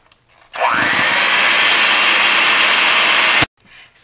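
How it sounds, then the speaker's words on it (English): An electric mixer beats butter and sugar for gingerbread, kicking in abruptly with a rising whine, then running as a loud, steady whirring drone for about three seconds before cutting off sharply, with no talk during it. "Now, I'm going to use a mixer, so I'll be mixing this very quickly"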